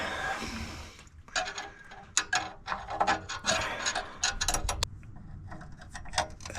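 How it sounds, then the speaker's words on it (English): A 14 mm wrench is worked onto the exhaust flex pipe nut of a 2012 Hyundai Elantra in a cramped space, making a run of close, irregular metallic clicks and scrapes. "just trying to get the wrench on, get it to be tight would be great"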